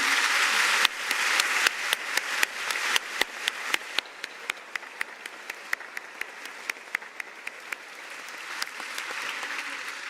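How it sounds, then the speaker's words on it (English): Audience applause at the EDHEC Business School celebration ceremony, a dense, steady round of many hands clapping that swells at the start, thins into scattered distinct claps midway, then builds again toward the end. "If I could invite you to give them a final round of applause, that would be great"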